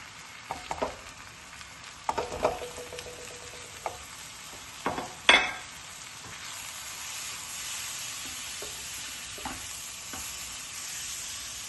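Tomatoes and spices fry in a pan for an Indian gobi keema, a constant sizzling hiss broken by several sharp scrapes and clatters from stirring in the first half, then a smoother, steady sizzle.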